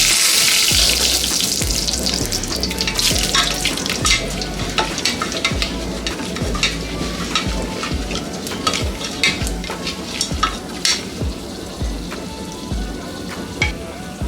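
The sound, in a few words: cashews frying in a pan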